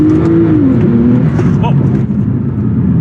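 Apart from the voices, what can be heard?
car accelerating hard using launch control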